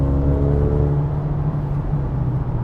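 A 2021 Mercedes-AMG GLB35 with 302 horsepower pulls hard, its engine a loud, steady, low rumble with a rising drone heard from inside the cabin, no talk.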